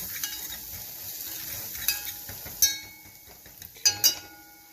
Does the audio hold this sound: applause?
no